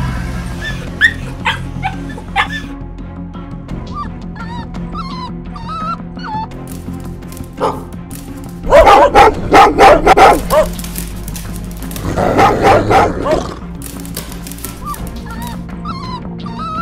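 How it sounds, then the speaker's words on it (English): Dog barking in the Roblox game Brookhaven, with two loud bursts of rapid, clustered barks in the middle over a steady layer of game music. "Stop that damn dog! You dirty dog, stop now!"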